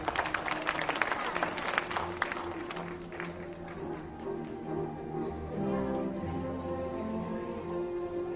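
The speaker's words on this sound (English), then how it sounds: "A big, big round of applause." A crowd at a school performance event gives a round of applause, heard as dense scattered clapping that is strong at first and then thins and settles, with music-like tones lingering underneath.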